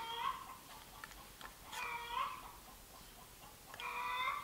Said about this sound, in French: Ah j'ai ma poule qui a fait son œuf.